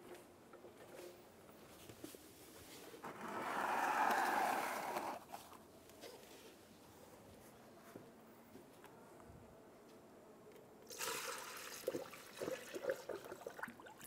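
Coolant gurgles and trickles through a funnel into the radiator of a 2003-2007 Infiniti G35, swelling into a louder burst of bubbling before settling, then returning briefly; quiet and close, with no talking.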